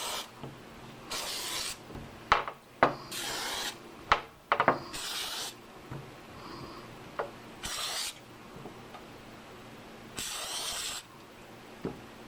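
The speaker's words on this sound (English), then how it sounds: "I have some non-stick cooking spray that I'm spraying this with." Several short hissing bursts of non-stick cooking spray, close by, spaced irregularly, with scattered clatter and rubbing between them.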